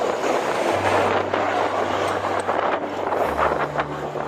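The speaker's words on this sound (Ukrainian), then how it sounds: "Вітер вже трошки починає нам дошкуляти" Steady wind buffeting a microphone on a long-distance bicycle ride, a continuous broadband rumble with a low droning engine hum underneath, no voices.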